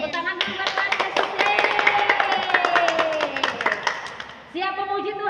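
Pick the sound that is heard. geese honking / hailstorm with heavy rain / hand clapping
hand clapping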